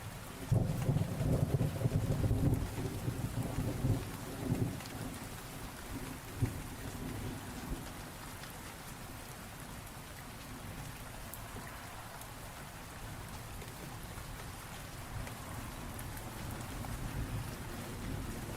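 Steady rain patters on surfaces throughout, with low rolling thunder rumbling loudly early on and fading, then softer distant rumbles under the continuous downpour.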